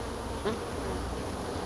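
Honeybees buzz inside a hive as a soft, steady hum, with one brief louder buzz of a bee passing close.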